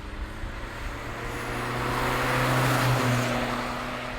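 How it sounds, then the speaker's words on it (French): A Saab 900 Turbo engine drones steadily from inside the car while driving, a constant low hum with a broad rushing wash that swells slightly midway. "qui aurait cru que dans une Saab, t'aurais un petit bruit pareil et des sensations pareilles?"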